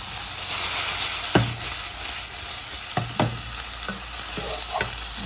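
Meatballs frying in a pan give a loud, steady sizzle, with a few distinct clacks and scrapes as they are turned over.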